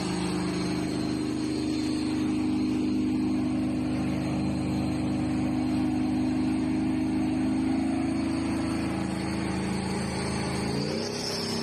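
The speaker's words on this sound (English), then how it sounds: "We hear the engine spooling up a little bit." A T-64BV tank's diesel engine runs steadily at close range, a loud continuous low rumble that holds for about ten seconds before shifting and rising briefly as it spools up near the end.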